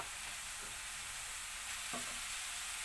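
Carrots cooking in melted pure ghee in a pan for gajar ka halwa, giving a quiet, steady sizzle with a few soft stirring scrapes near the middle.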